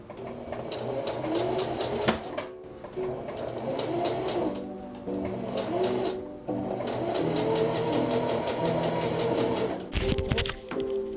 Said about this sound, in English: I'm just gonna sew it together like a normal seam